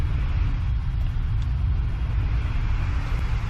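Boeing 777-300ER engines roaring in full reverse thrust just after touchdown in the Prepar3D V3 flight simulator, a loud, steady, low rumble that holds without a break throughout.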